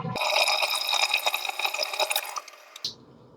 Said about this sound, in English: Gotta let the water out.